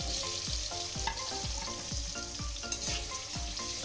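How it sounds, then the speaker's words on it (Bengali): Potato pieces frying in hot oil while being made into papaya kofta curry, with a steady close sizzle and regular scraping stirs of a utensil, about two per second, and no talk. "এবার আমি আলুগুলোকে দিয়ে দেবো তেলের মধ্যে, দিয়ে আমি ভেজে তুলে নিয়ে"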